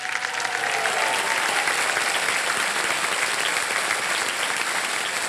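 Studio audience of a TV quiz show clapping loudly and continuously for a contestant, a thick sustained burst of applause with a faint musical sting fading out at the start.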